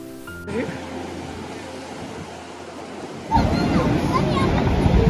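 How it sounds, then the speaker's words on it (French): Ocean waves break at the Imsouane surf spot in Morocco, a steady broadband wash that swells noticeably louder and rougher partway through. "il fait beau, les vagues sont là"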